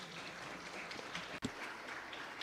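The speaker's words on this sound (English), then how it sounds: "round of applause for you" Audience applause at a PPP Americas 2025 conference panel, a steady wash of many hands clapping at a faint distance, with one brief thump partway through.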